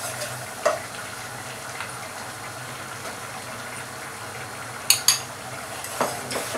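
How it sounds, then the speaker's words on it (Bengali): Flour is stirred into melted butter in a pan for béchamel, a soft, steady low sizzle broken by a few sharp scrapes and taps of the utensil against the pan, heard close with no talking. "দেখেন সুন্দরভাবে মিশিয়ে দিতেছি আমি ময়দাগুলোকে।"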